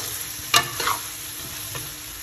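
Food frying in plenty of ghee in a home kitchen, a steady sizzle with a few spoon scrapes and stirring knocks near the start, close and moderately loud, no talking.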